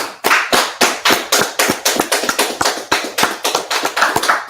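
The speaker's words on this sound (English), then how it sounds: "let's clap it up" Close, loud rhythmic clapping from a group at a gathering in Washington DC, a quick series of sharp claps with no talking.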